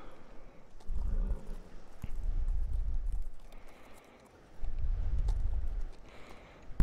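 Horse hooves in a music video thud in two low, rumbling bursts of clip-clop, moderately faint with breezy background noise between them.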